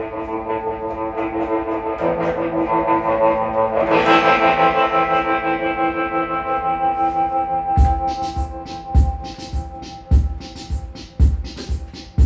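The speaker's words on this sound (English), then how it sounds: "So what's making that is called a echoplex, tape echo." An electric guitar plays through an Echoplex tape echo unit, first a loud washy swell of repeating distorted tones, then sharp rhythmic strums, each trailed by echoing repeats.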